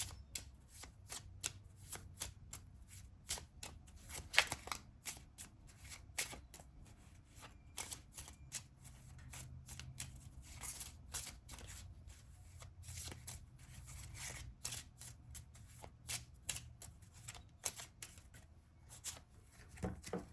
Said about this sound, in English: I'm going to draw one of these little fairy tale cards.